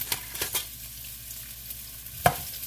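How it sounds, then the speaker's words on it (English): One large chopped onion sautés in a pan of olive oil with a soft steady sizzle, broken by a few close scrapes and knocks of stirring, one louder clack near the end. "I'm just going to saute it a little bit."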